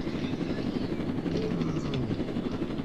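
Helicopter in Roblox Jailbreak, a steady loud rotor whir and engine drone filling the whole stretch, close and continuous, with no talk over it.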